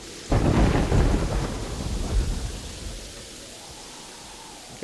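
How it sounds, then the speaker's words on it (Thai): Thunder and rain in the game Terraria: a sudden loud thunderclap rumbles and slowly fades over a steady hiss of rainfall. "ฝนตกจังเว้ย"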